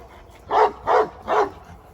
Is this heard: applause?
no